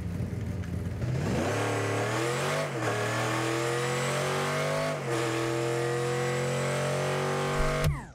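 Batmobile engine in the Rocket League video game, revving up and shifting through gears in repeated rising sweeps, loud and close, with a brief final burst near the end.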